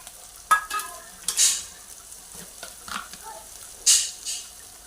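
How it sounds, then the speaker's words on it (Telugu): Ginger garlic paste fries in oil in a pan, a soft sizzle broken by several sharp scraping stirs of a spoon against the metal, close and intermittent, with no voices. "అల్లం వెల్లిపాయ ఇవన్నీ మంచిగా నూనె విడుస్తుంది కదండి, మంచిగా వేగుతుంది"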